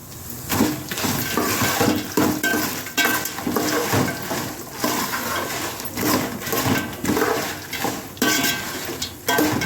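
A spoonful of mustard seeds splutters in hot oil in a pan, a dense, continuous crackling and popping with sizzling, close and fairly loud, with no talking over it.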